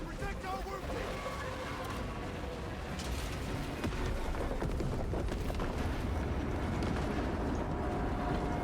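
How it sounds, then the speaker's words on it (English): Detonated charges going off in the Space Marine 2 video game, a dense run of booming, rumbling blasts and crackling bursts that builds louder over several seconds, with game voices speaking over parts of it. "Detonate the charges now"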